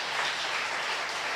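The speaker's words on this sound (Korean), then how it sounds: "박수로 환영하겠습니다." A church congregation claps in welcome for visitors during a Sunday service, a dense, even wash of many hands applauding together at close range.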